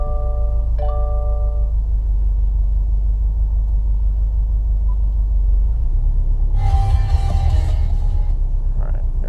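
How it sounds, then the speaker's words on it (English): A 2017 Subaru WRX STI engine runs steadily as a loud low rumble, with a brief rise and extra noise near the end as the car idles on a very hot day. "I'm going to go ahead and start the car, get some AC going"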